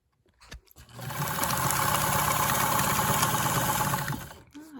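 A vintage Super Zigzag domestic sewing machine stitching a straight line, running with a steady rapid mechanical chatter for about three seconds before stopping, close and fairly quiet.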